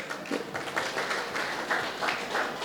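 An audience at a community evening event claps to welcome a radio jockey, a steady patter of many hands at moderate volume with small surges, continuing without speech over it.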